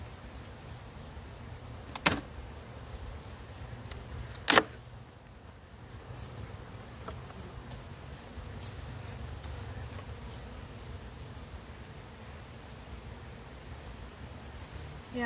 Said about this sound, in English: there's lots of bees